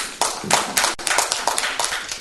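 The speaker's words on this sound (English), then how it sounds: "give her another big round of applause." Audience at an evening session of a forum event gives brief applause, a dense burst of close clapping with sharp individual claps standing out, no talking.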